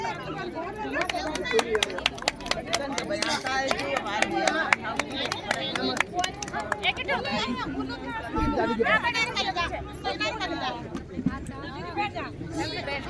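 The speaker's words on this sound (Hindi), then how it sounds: "कृपया जोरदार तालियों से उनका स्वागत कीजिएगा" A gathering at a thank-you party for a newly elected ward councillor breaks into sustained applause, with lively chatter and crowd murmur mixed among the claps throughout.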